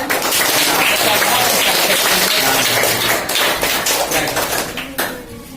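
Schoolchildren at a government school in India applauding, with close, sharp individual claps over a busy clatter; voices mix in, and the clapping thins out and fades toward the end.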